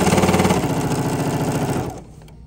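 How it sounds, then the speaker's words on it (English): Sewing machine stitching a fabric door stop, a close, steady rapid mechanical whir that runs for about two seconds, then stops abruptly. "and sewing all the way to the end until you get to that previous little stitching point"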